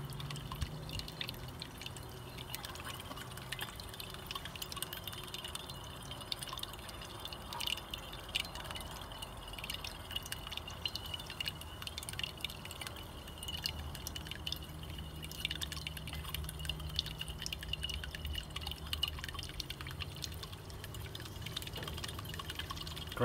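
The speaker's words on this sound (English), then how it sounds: "There we go, that's a good drip." Liquid drips steadily while carbon felt is made from fine graphite particles, a faint, repeated trickle of soft drops sitting under a low hum with no talking.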